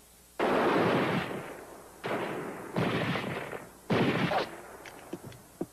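Gunfire in a western film shootout: four separate bursts of rifle and pistol shots with echoing tails, spaced about a second apart, followed by a few fainter scattered pops.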